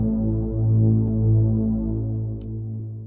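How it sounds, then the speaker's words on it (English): A dark, muffled cinematic brass synth horn chord from SynthMaster One swells and sustains, low and warm, with a slight shift partway before fading. "The first one here is Brass Cinematic Synth Horns"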